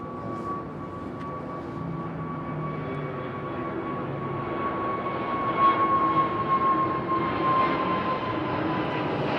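Airbus A380 departing London Heathrow Airport, a loud continuous jet engine roar with a steady whining tone, swelling gradually as the airliner passes overhead.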